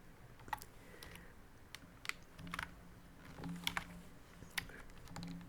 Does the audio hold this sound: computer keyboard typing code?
yes